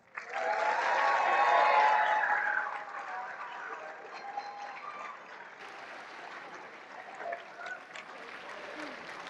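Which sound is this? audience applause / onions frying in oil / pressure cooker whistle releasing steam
audience applause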